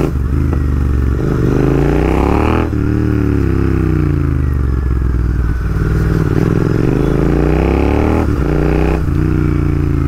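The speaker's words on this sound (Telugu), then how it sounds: "దీనిలో AEW T101 megaphone exhaust పెట్టుంది, and it is without DB కిల్లోస్, it is very loud" A Royal Enfield GT650 motorcycle fitted with an AEW T101 megaphone exhaust and no dB killer runs very loud and close, its deep parallel-twin rumble rising and falling through several revs with a rough, crackling edge.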